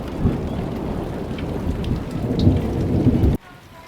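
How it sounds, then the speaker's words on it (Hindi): Large hailstones pelting down during a mountain thunderstorm, a dense, steady roar of impacts close by with low rumbling underneath, cutting off abruptly near the end to near quiet. "ये देखो कितने मोटे मोटे ओले गिर रहे हैं।"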